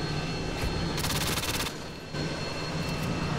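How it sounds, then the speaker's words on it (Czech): Heavy gunship fire from an AC-130 in the multiplayer video game Modern Warfare 2 (remastered): loud, dense bursts of rapid shots over a constant engine drone, with a short dip in the middle. "On týpek už tady má AC-130."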